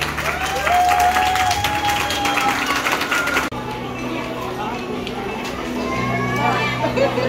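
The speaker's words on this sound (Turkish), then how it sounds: "büyük bir alkış alalım Rıza Bey'e." Wedding guests in Tokat, Turkey give a loud, sustained round of applause that continues steadily throughout, with dense clapping from a crowd, background music and voices beneath it.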